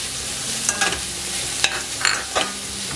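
Finely chopped beetroot is stirred into rava upma in a pan: a few distinct scraping strokes of a spoon over a soft, steady sizzle, close and alone with no talk.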